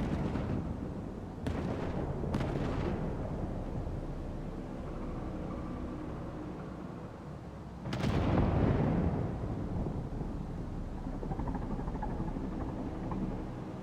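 Cthulhu fires a gun in a dark city-builder game: a few sharp shots early, then a loud booming blast around the middle that decays into a rumbling tail over a low ambient drone.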